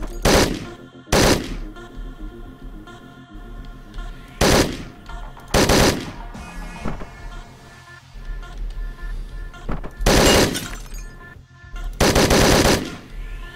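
Machine gun fire in Hotline Miami 2 comes in about six short, loud bursts, each a rapid rattle, separated by quieter stretches of game music and background sound.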